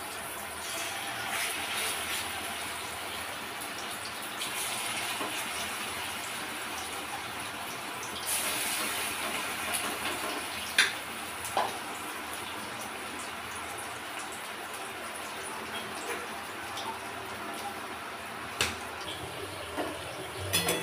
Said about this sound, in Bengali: তারপরে কড়াই সেট করে বড়া দিয়ে দেবো